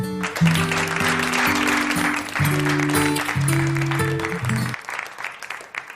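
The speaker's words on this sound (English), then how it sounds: "Where's my clapping?" A host plays a canned applause sound effect, a steady wash of clapping that runs for about four and a half seconds, then cuts off abruptly. Sustained musical tones sound underneath, and no one speaks.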